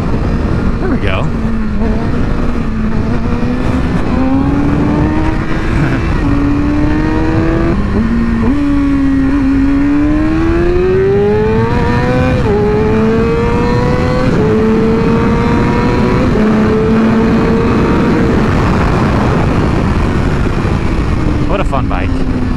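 A 600 sport motorcycle engine revs hard and steadily through wheelies, its pitch climbing and dropping in repeated waves as the throttle opens and eases. The engine stays loud and close throughout, with wind noise underneath.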